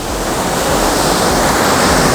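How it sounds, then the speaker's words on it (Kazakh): The Akmeshit waterfall, about seven metres high with icy water, roars close by as a loud, steady broadband rush. "сарқырамасы"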